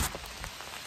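Rain falls steadily outdoors while people walk through it, a soft, faint patter that carries on evenly with a few slightly louder drops and no voices.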